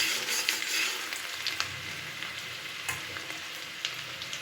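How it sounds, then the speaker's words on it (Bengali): Chopped onion frying in oil with black cumin in a home kitchen, a steady close crackling sizzle with occasional sharper pops and light stirring scrapes. "পেঁয়াজটাকে বেশ কিছুক্ষণ একটু লালচে করে ভেজে নেব।"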